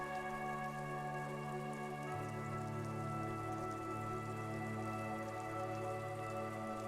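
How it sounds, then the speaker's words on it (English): Rain falling steadily over the city of Revachol in the video game Disco Elysium, dripping from eaves into gutters, a soft continuous patter beneath sustained ambient music tones throughout. "All around you, rain falls on the great city of Revachol. Rain drips from the eaves and floods the gutters,"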